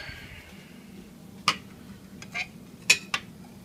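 Metal utensil clinks against a bowl while stirring a ketchup mixture, four short separate taps spread unevenly over a few seconds against quiet room noise.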